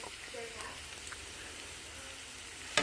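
Beef stir fry with an oriental vegetable mix sizzles in a pan, a low steady crackle throughout with a sharper burst of spitting right at the end.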